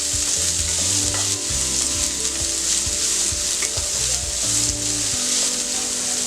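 Curry leaves and onion frying on full gas flame for pumpkin bhaji, a loud, steady sizzle with repeated scraping strokes of a spoon against the pan.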